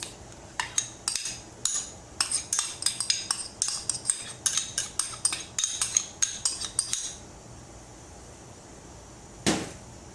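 A metal spoon scrapes and clinks in a pot as onions and spices are stirred into rice, a quick run of close, irregular clatters for several seconds, then a pause and one last scrape, with no talking.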